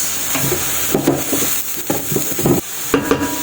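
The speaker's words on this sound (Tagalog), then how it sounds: "So, i-add ko na ang patatas." Hot oil sizzles steadily as potatoes go into a pan of chicken cooked with soy sauce, with intermittent scraping and stirring strokes close by.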